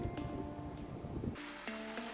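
Rain falling in Serengeti National Park, Tanzania, a dense even patter washing across the ground and foliage, with a faint low engine hum underneath and a brief higher tone near the end.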